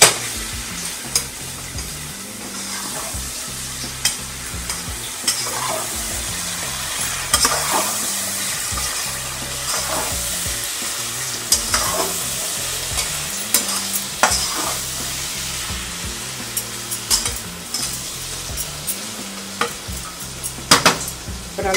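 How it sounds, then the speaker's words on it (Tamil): Soya chunks sauté in ghee in a pan for ghee meal maker sukka, with a continuous sizzle and repeated scraping of a spatula stirring against the metal pan, close and fairly loud throughout. "இதை நல்லா வதக்கிக்கோங்க."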